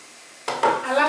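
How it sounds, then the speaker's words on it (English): Pasta is stirred in a cooking pot with quick, close scraping and clinking strokes after a moment of near silence, a soft simmer underneath. "Stir and stir."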